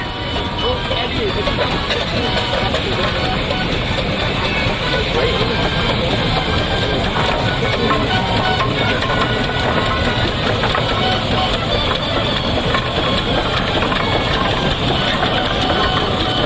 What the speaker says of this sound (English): Road roller coming through now.